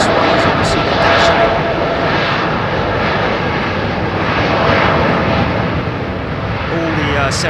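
Aircraft engines roar loudly and continuously at London Heathrow Airport, a broad steady rumble with a brief rise in hiss, as planes such as a Dash 8 and Boeing 787 Dreamliners pass nearby.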